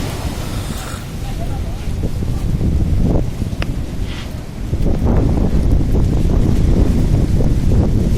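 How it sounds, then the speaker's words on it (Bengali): Strong cyclone wind and rain at the sea at Digha during Cyclone Amphan, a loud buffeting roar across the microphone that swells midway and stays heavy. "বেশ জোরে হাওয়া বইছে, সেই সঙ্গে বৃষ্টি হচ্ছে"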